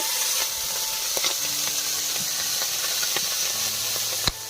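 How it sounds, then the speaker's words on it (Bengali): Pakal fish from a pond fry in hot oil, giving a steady, loud sizzle and hiss, broken by scattered pops and crackles and one sharp spatter near the end. "ভাজা চলছে, কিভাবে আওয়াজ হচ্ছে শুনুন"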